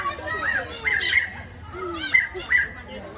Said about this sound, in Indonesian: Ribut kali burungnya.